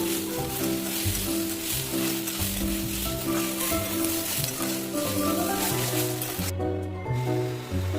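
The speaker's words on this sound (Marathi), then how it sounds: "आता हे सगळं जिन्नस एकत्र करून व्यवस्थित परतून घ्यायचं." Whole spices (stone flower, cumin seeds, black and green cardamom) sizzling and being stirred in a hot pan for a spicy Saoji mutton curry, a steady close frying crackle under a continuous musical backing with no talking.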